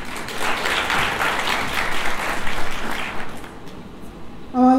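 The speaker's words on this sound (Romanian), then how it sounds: "aplauze pentru voi!" Conference audience applauding at a keynote talk, dense sustained clapping from a large crowd for several seconds, fading out before a brief tone at the end.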